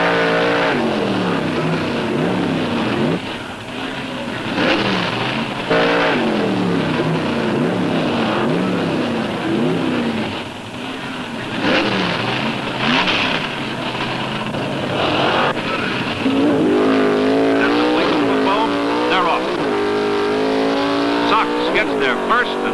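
Pro Stock drag cars roar and wail down the strip in a semifinal, the engine sound rising and shifting pitch, with loud crowd and track noise and a commentator talking throughout.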